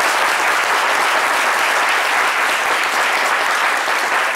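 An audience at a talk on Kandet Kanté's roots and values bursts into loud, dense, continuous applause, a close wash of many clapping hands sustained evenly throughout.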